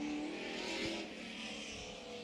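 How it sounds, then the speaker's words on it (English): Race car engine heading out for qualifying at Orange Show Speedway during an '80s night, a moderately distant roar with a couple of rising revs over about two seconds. "Another gutsy engine coming on out for qualifying."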